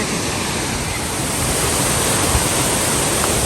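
Tad Khu waterfall near Pakxong in southern Laos roars as a steady, dense broadband rush of falling water, constant and fairly loud throughout with no voices.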